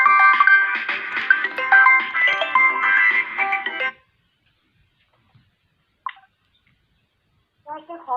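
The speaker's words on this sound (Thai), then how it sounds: "มีสายเข้ามาจากไหนไม่รู้" An incoming call rings on a phone as a melodic electronic ringtone of repeated tonal notes for about four seconds. It then cuts off, leaving silence with a couple of faint clicks and a short voice at the end.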